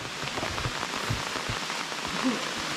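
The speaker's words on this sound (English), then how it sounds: "So much rain." Rain patters steadily on a campsite, a dense close hiss of drops striking surfaces with scattered louder splats, fairly soft overall and with no voices.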